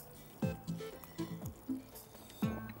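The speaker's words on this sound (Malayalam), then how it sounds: "ഇനി ഇത് ഇതിനകത്തോട്ട് ഞാൻ ഒഴിക്കുക." Ground paste for butter chicken is poured into a cooking pan, making a quiet series of four or five soft, wet plops and glugs at uneven intervals.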